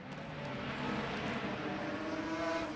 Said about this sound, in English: Lotuses and Jaguars all racing around the track right now.